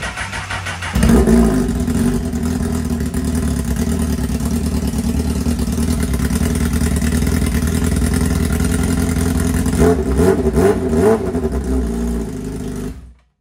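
A Honda CBR sport bike engine with no exhaust fitted fires up after a second and runs loud and raw, a steady rough drone with a few throttle blips near the end before it cuts off.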